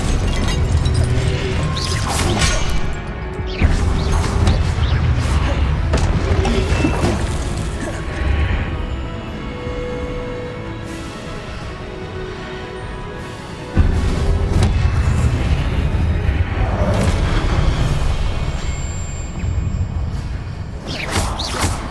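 Spell effects for Expelliarmus and Glacius in a video game during Charles Rookwood's trial: a loud, continuous mix of crashes, booms and whooshes that keeps surging, with heavy impacts near the start and again midway.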